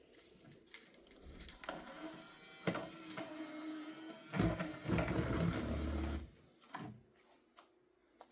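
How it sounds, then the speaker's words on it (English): 3D printer struggling to pull in filament from a spool that isn't turning, giving irregular mechanical whirs, clicks and grinding bursts that swell in the middle and then trail off into quiet. "It's like it's having trouble pulling it in because the spool isn't spinning"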